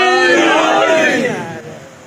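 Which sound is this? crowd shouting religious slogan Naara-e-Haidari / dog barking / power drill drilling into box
crowd shouting religious slogan Naara-e-Haidari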